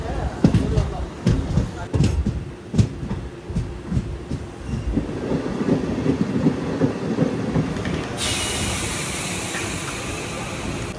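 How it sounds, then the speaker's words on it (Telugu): A Kakinada Port to Visakhapatnam MEMU express train runs with rhythmic wheel clatter and rumble, the tone brightening into a steady hiss and squeal late on, heard from inside the carriage with voices mixed in. "కాకినాడ పోర్ట్ నుండి విశాఖపట్నం వరకు మెము ఎక్స్ప్రెస్ ఇది"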